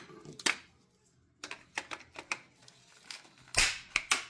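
Side snips cutting into a stripped screw while scrapping electronics, a series of sharp metallic snaps and clicks in irregular clusters, close and crisp against near silence.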